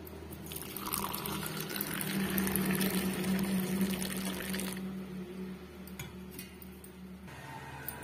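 Hotel-style tea bubbling at a steady boil in a pan, a continuous close simmering hiss with soft popping that runs alone throughout.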